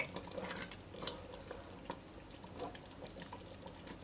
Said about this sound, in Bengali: এটা আমি নেড়ে চেড়ে দিচ্ছি, কারণ নিচে লেগে যেতে পারে না নাড়লে